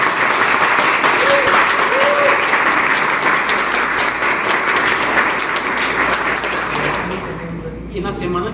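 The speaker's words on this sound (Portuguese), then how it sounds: "Palmas para ela." An audience at a science talk breaks into loud, sustained applause, dense clapping that holds steady for several seconds before thinning out, with faint voices near the end.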